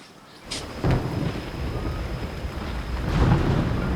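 Thunder from approaching rain clouds over a river sandbar rumbles low and broad, swelling in rolling waves with a couple of louder cracks, steady and fairly near with no talk.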